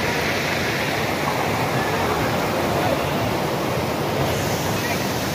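A waterfall roars loudly and close by in a steady, unbroken broadband rush that fills the whole stretch with no pauses.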